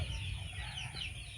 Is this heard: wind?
no